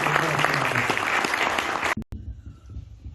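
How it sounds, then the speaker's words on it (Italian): An audience at a conference on traditional clothing gives loud, dense applause for the Associazione Tradizioni Popolari, which cuts off abruptly near the end and leaves a quiet room with faint murmurs. "vi inviterei veramente a fare un grande applauso all'Associazione Tradizioni Popolari"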